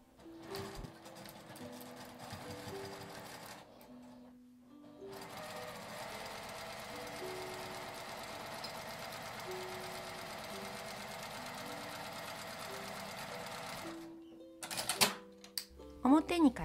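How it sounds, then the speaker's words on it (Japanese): A sewing machine stitches the bottom seam of a thin unlined drawstring bag with a 1 cm seam allowance, running steadily in long bursts with a short pause, then stopping near the end amid a few handling clicks. "底を1センチの縫い代で縫います。"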